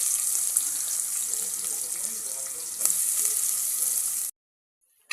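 Chopped onions fry in hot oil for a Tamil thala curry kuthu kulambu, a steady bright hiss of sizzling close up with one brief clatter, cutting off abruptly near the end.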